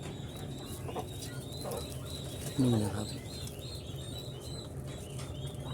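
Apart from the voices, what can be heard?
turkeys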